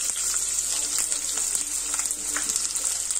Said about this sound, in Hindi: यहाँ पे मैंने पैन लिया है, उसमें हम मस्टर्ड ऑयल यूज़ करेंगे। इसमें ऐड कर देंगे हम रफली चॉप अनियन।